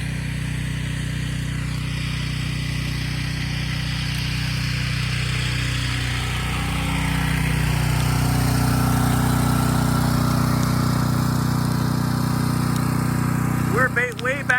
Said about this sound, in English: we had to use the homeowner's generator because there's no power here